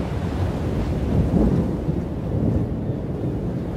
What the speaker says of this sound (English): Storm's rolling in, so might as well get out of here.